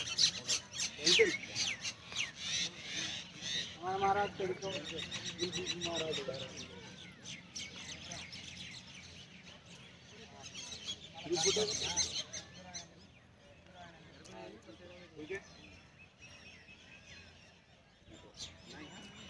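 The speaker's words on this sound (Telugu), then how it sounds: "తాజ్మహల్ పక్షుల కిలకిలలు." Birds chirp and call in scattered bursts throughout at the Taj Mahal in Agra, with busy high tweets mixed among voices and crowd noise.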